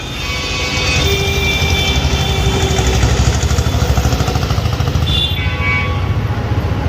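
A heavy Tata bus engine rumbles steadily and loudly close by at Rajkot bus station, its drone swelling as the vehicle pulls away.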